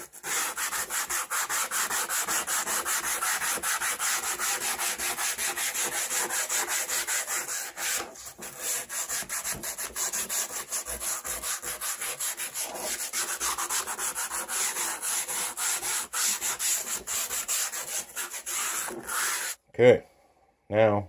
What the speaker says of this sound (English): Now we're going to take the cube, slick tray, we're going to take some sandpaper,